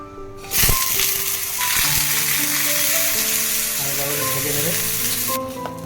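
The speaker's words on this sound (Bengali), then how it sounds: "বেগুন ভাজা হয়ে গিয়েছে তো দুটো এখানে উঠিয়ে নিয়েছে আর এখানে একটা একটা করে ভাজা হচ্ছে" Eggplant slices sizzle steadily on a hot griddle, a constant frying crackle after a brief knock at the start.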